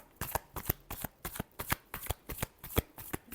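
A deck of tarot cards being shuffled close up, with rapid rhythmic riffling bursts repeating about every third of a second, steady and crisp with no talking.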